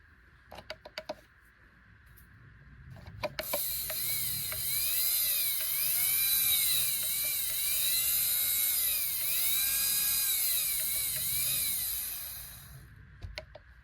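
A small, dirty electric motor from a Kyosho Tomahawk RC car whirs steadily for several seconds with a gritty, rasping whine, preceded and followed by brief clicks and handling noises.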